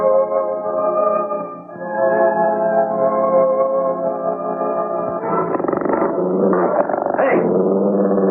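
A dog growls while attacking, a loud, sustained throaty snarl that rolls on for several seconds, turning rougher and more agitated near the end.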